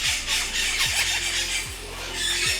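Young Puerto Rican parrots in a cage give continuous shrill squeals and squawks, loud and close, with a few lower repeated calls sweeping through; no talking.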